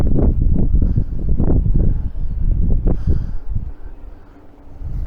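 Gusty wind buffets the microphone in low, rumbling bursts in a garden at Alton Towers, with light rain, rising and falling over several seconds before easing slightly toward the end.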